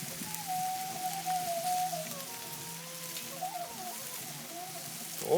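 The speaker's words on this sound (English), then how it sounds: "because of the rain" Rain patters steadily on an outdoor barbecue while a chicken curry cooks, a soft, even hiss with faint tonal hums and a brief knock at the end.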